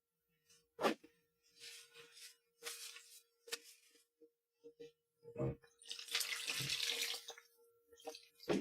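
Tap water runs and splashes while hydro-dipped, dye-coated leather is rinsed, coming in several separate bursts with a longer, louder stretch near the end.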